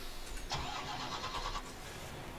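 A truck engine cranks over and catches in Farming Simulator 19, then settles into a steady idle, fairly quiet and heard alone without talk.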